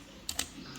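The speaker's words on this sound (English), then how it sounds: "I can also use their keyboard. I've already connected the keyboard." A few quick keystrokes tap on a tablet's Bluetooth keyboard, close and quiet, with no talking.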